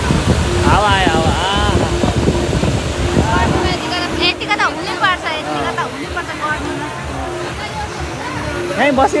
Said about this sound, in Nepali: हावा आयो हावा